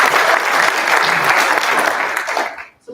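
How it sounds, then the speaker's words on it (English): Audience at a provincial election debate breaks into loud, sustained clapping that fills most of the moment, then tapers off abruptly near the end. "So I think a round of applause."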